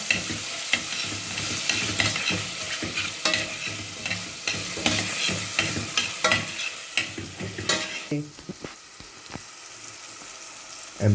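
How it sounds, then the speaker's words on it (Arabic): Chicken liver and gizzards sauté in a hot pan, a continuous crackling sizzle broken by frequent scraping stirs of a utensil against the pan. "دي كده الكبده اهي تاخد برك تشويحه"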